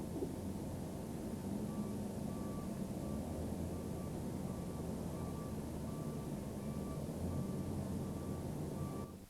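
JCB bucket loaders work at a rake of HAA coal wagons at a port coal terminal. A steady low machinery rumble runs throughout, with a faint repeating reversing beep pulsing at a distance.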